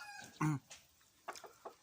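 A young rooster gives a short, loud squawking cluck, followed by a few softer, quick clucks close by.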